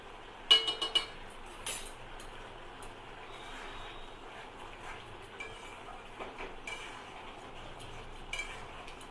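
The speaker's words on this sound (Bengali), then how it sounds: "ঘিটা ঝোলের মধ্যে দিয়ে একটুখানি ভালো করে মিক্স করে নেব" Ghee is stirred into pointed gourd curry in a pot, with a few quick metallic clinks of a spoon against the pot early on, then soft, faint scraping over a quiet background.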